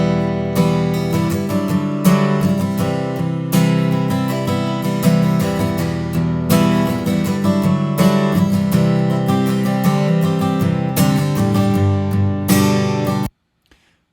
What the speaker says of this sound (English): So this is the microphone that I recorded, no plugins, just the bare microphone.